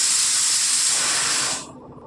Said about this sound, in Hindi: दाल बैठी हुई है, उसी की कुकर की सीटी की आवाज़ आ रही है